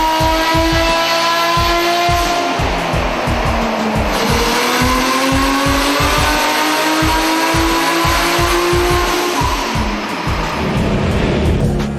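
Twin-cam RB30-powered drift cars on dyno rollers, engines screaming loud and close with constant revving, rising and falling pitch and rapid rhythmic pulsing throughout.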